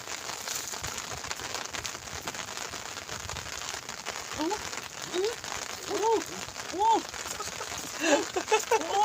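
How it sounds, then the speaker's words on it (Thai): Rain falling outdoors during a morning fishing trip, a steady broadband patter with a few bird-like chirps rising toward the end, and people talking faintly in the background. "ฝนตกครับผม ไม่รู้จะออกได้หรือไม่"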